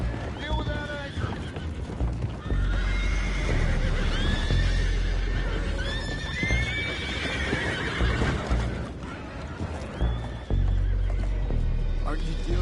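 Horses neigh and whinny repeatedly while hooves clip-clop close by in a Red Dead Redemption 2 game scene, the calls rising over a low rumble of movement and ambient noise.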